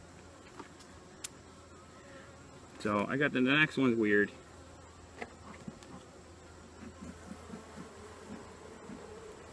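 Honeybees buzz close around a beekeeper's head at a hive, a loud, wavering drone that swells for a couple of seconds and then fades, between quiet stretches with soft background noise and a brief spoken remark.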